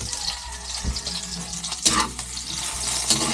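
A kitchen tap runs continuously into a sink, a close, steady stream of splashing water broken by a few brief clunks, with no voices.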